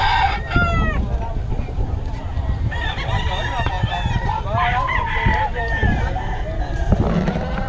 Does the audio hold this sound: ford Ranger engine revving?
no